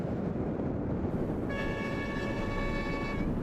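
A passenger train bound for Urumqi runs alongside a road just outside Xi'an, a sustained rumble overlaid from midway by a steady, drawn-out horn tone, with no talking.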